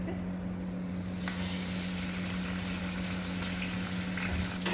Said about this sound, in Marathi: फ्राय करते.